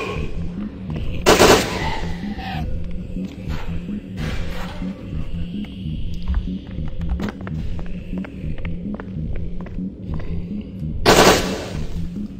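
Bursts of video game gunfire in a shooter, with two loud automatic volleys at the start and end and scattered quieter shots between, over a steady low game hum.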